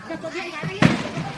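A sharp burst of cracking gunshots rings out partway through in a village in Dong Tam, Vietnam, set against a low background murmur of voices and noise.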